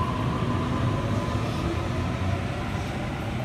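A Sydney Waratah electric train rumbles steadily at St Leonards station, a continuous close low roar with a faint tonal hum and no break, and no one speaks.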